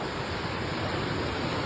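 A floodwater river rushing past damaged homes in Pantai Gelima, South Aceh, after a disaster: a loud, continuous broadband roar of flowing water, steady and unbroken, with no voices.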